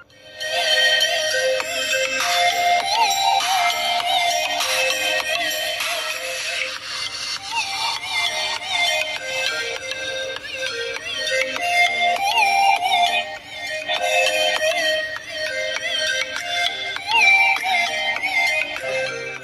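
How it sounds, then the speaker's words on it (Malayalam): A ringtone melody plays loud and steady through the stereo speakers of an Oppo A57 budget phone, a bright tonal tune running continuously with no talking over it. "ഇനി ഫോണിൽ വരുന്നത് സ്റ്റീരിയോ സൗണ്ട് ആണ്. സൗണ്ട് നമുക്ക് കേട്ടു നോക്കാം എത്രമാത്രം ഉണ്ട്."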